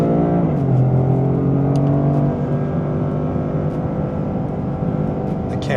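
A 2025 Toyota GR Corolla automatic driven hard on a race track with a banked oval, its engine droning loud and close with a pitch drop from a shift, then holding steady.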